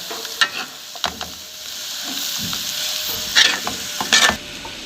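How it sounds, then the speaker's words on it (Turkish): Mushrooms and onion frying together in a pan, a bright continuous sizzle punctuated by repeated scraping and clacking of a stirring utensil, close and fairly loud, no voices. "markotla soğan qovrulur"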